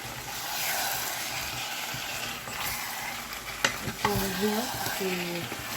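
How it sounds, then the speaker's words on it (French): Veal tail frying in a pot as it is stirred, a steady close sizzle with a few sharp scrapes and clinks toward the end. "Je mets la queue de veau."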